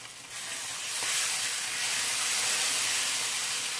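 Chicken frying in oil in a pan with meat juices, sizzling in a steady, loud hiss that swells slightly and carries on without any talking.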